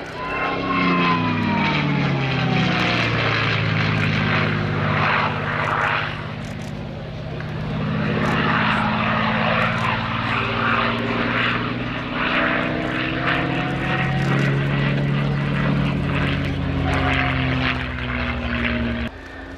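A propeller-driven P-51 fighter flies past at an air show, its loud droning engine sweeping in pitch as it passes, heard continuously under a commentator's voice over the public address.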